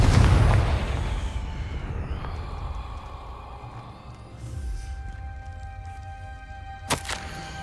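A Confringo fire spell in Hogwarts Legacy bursts with a loud explosive boom at the start, then fades into a rumbling decay under ambient game music, with a sharp crack near the end.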